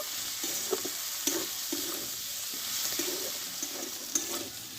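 Onion stalks frying in oil in a pan, a steady close sizzle with light scraping strokes of stirring every second or so, no voices.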